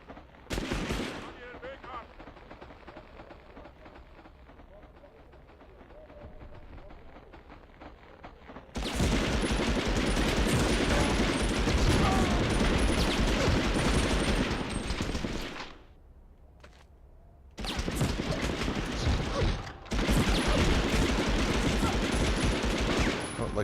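Sustained bursts of automatic gunfire from the video game Medal of Honor: Underground, loud and dense, with quieter stretches and abrupt gaps between heavy volleys.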